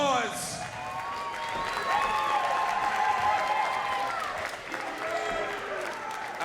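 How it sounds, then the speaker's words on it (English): Boxing arena crowd applauding both fighters after a five-round welterweight bout, a steady sustained wash of clapping and cheering heard throughout under an announcer's voice. "both these fighters deserve a warm round of applause"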